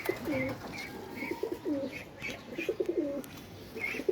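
A male highflyer pigeon at a breeding loft coos in repeated rolling phrases, close by, with faint chirps from other birds scattered in the background.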